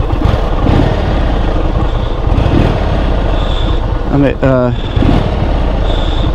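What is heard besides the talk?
cruiser motorcycle engine revving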